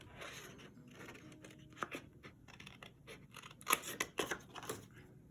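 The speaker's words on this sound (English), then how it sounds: "it didn't take too long to just fussy cut the simple little heart shape" Small scissors fussy cut a simple paper heart shape, producing a series of quiet, crisp snipping crunches in irregular bursts, close and intimate.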